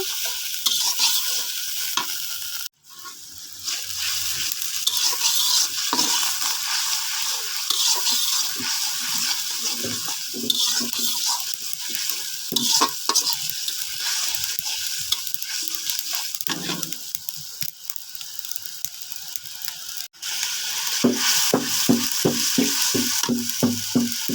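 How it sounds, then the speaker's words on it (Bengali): Cumin paste sizzles loudly in a hot pan while a spatula stirs and scrapes it continuously, a dense close frying hiss with rhythmic scraping strokes and no talking. "তারপরে দিব জিরা বাটা। এটা ভালো করে একটু নাড়িয়ে কষাইয়া নিব।"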